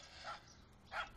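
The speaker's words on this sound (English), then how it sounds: "Shut that dog up." A dog barks twice in a quiet room, two brief, somewhat distant yaps about half a second apart over low background hiss.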